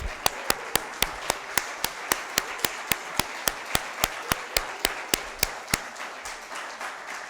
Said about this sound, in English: I'm going to ask for just a little more applause